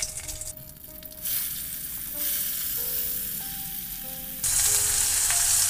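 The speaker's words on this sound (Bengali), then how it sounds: "পেঁয়াজটা হালকা ভেজে নেব" Chopped onion, green chili and tomato hitting hot oil with bay leaf and asafoetida for baingan bharta, a dense, close sizzle that swells louder in steps, with faint tonal hums beneath.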